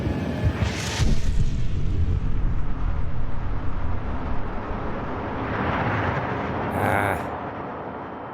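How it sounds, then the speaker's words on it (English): A loud explosion blast in the video game Dreamfall Chapters, a sharp burst followed by a long, heavy rumble that stays dense and fades slowly, with a second swell later on. "Well, I guess no matter what, you get hit with the blast."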